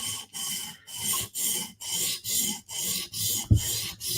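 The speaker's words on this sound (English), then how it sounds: "Let's do one more pass with this 150 grit stone." Knife being sharpened on a 150 grit stone: about eight regular rasping strokes, each a gritty scrape with a short gap between, close and clear with no talk.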